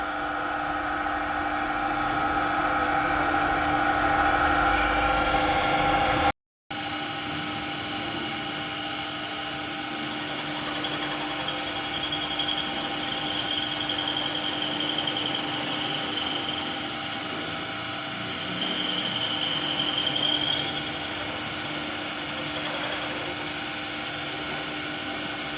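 A school workshop milling machine cuts a steel nut, giving a steady, loud mechanical whine and grinding hum with tonal bands that run continuously, broken by one brief dropout early on.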